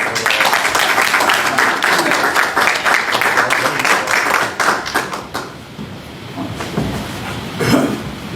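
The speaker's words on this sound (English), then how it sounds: "one more round of applause" Council meeting audience breaks into applause, a dense burst of clapping for about five seconds before thinning and fading into quieter room noise with faint movement.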